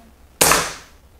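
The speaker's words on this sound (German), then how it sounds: "Und jetzt machen wir noch einen Schuss auf die Gelatine" An air rifle fires a diabolo pellet into a block of ballistic gelatin: one sharp, loud crack that rings out and fades over about half a second, with no talking.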